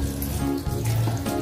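Tap water runs steadily from a kitchen faucet to wet a spoon while Ilocano-style leftovers are prepared, a continuous close hiss and splash with no talk over it.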